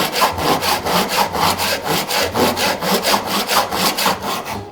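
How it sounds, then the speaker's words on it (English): A hand saw cuts through a wooden block in a steady rhythm of close, rasping back-and-forth strokes, about four per second, with no talk. "start sawing that the saw will just slide back and forth next to the wooden block"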